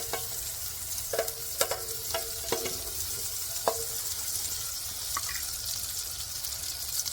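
Butter melts in a large skillet with a soft, steady sizzle, while a utensil clinks and taps against the pan now and then.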